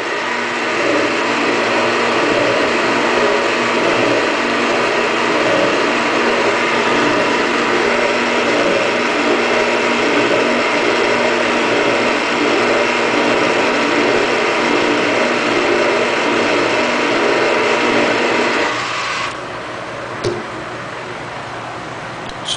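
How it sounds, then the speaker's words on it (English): Valve seat cutter trimming the seat on a 350 Chevy cylinder head, a loud, continuous grinding mechanical whir with steady tonal hum, running close up for nearly twenty seconds before dropping to a quieter tail and a sharp click. "I'm just basically going to trim the top of that seat off because it's really not at the height I want it to"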